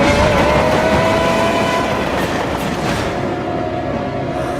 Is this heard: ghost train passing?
yes